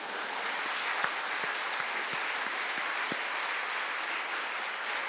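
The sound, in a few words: congregation applause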